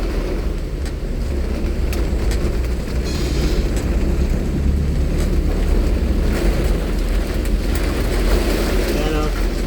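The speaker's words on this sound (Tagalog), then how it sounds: "Biglang lumakas ang ulan." Steady, dense roar of heavy typhoon rain with wind in Quezon City, Philippines, continuous and loud throughout, with occasional faint voices underneath.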